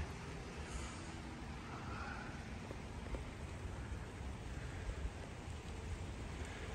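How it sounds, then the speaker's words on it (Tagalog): Steady rain falling outdoors under low cloud in Canada, a soft, even hiss with no breaks, faint and fairly distant. "it's raining"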